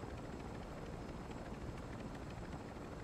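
A heavy helicopter in a video game flies overhead with a steady, muffled rotor drone that stays even and faint throughout, with no talking.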